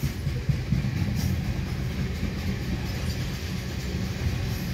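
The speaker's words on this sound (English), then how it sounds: "That's a loaded train." A Canadian National locomotive leads a southbound loaded ethanol freight train, giving a steady, close rumble of engine and rolling wagons with faint irregular clanks over the continuous low drone, no voices.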